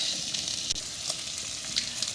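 Onions fry in a pan over high flame for an Indo-Chinese mushroom manchurian, giving a steady hissing sizzle with faint stirring crackles, fairly quiet and continuous.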